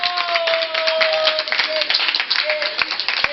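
A church congregation claps rapidly and steadily for Jesus, the dense applause filling the room under a held musical note, with no clear cheering standing out.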